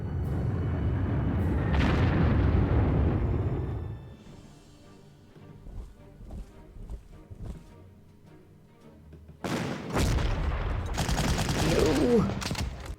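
Explosions from a level bomber attack in the WWII strategy game Panzer Corps come as two loud, rumbling bursts of booms split by a quieter stretch of scattered thuds.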